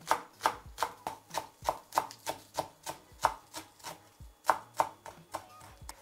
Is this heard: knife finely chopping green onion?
yes